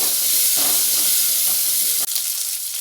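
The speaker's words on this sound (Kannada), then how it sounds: "ಈರುಳ್ಳಿ ಕೂಡ ಹಾಕ್ತಾ ಇದ್ದೀನಿ ಇದ್ರ ಜೊತೆಗೆ ಇದನ್ನು ಇವಾಗ ಚೆನ್ನಾಗಿ ಬಾಡಿಸ್ಕೊಳ್ಳೋಣ ನಾವು" Chopped onions sautéing in a pan for hotel-style sambar give off a loud, steady sizzle and hiss that runs almost unbroken, with a brief dip partway through before the frying noise resumes.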